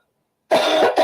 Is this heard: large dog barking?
no